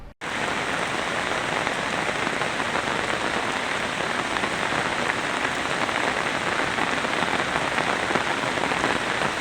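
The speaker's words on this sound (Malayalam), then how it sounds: "കണ്ണൂരിലെ മലയോര മേഖലയിൽ കനത്ത മഴ തുടരുന്നതിനാൽ ജലാശയങ്ങളെല്ലാം നിറഞ്ഞു കവിഞ്ഞിരിക്കുകയാണ്" Heavy monsoon rain in the hilly region of Kannur falls in a steady, dense hiss on surfaces, close and unbroken.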